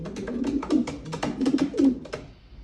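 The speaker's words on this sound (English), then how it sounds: "First national ace pigeon" A racing pigeon, a first national ace hen from long-distance one-day racing, coos repeatedly in soft, throaty rolling bursts, close by and alone with no talk.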